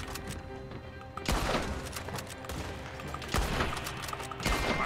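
Rapid gunfire in the Red Dead Online video game: dense bursts of shots and thuds, with two heavier volleys standing out as the exchange continues at close range.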